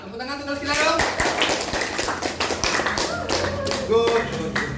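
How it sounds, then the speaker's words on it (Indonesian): Students in a classroom clap in a short burst of uneven, close taps, mixed with a teacher's voice and chatter over the top. "Tepuk tangan untuk sekalian dong."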